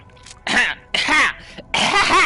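A man clears his throat during a Borderlands 3 PS4 gaming stream, giving three harsh, rasping bursts close to the microphone, each roughly half a second long with short gaps between them.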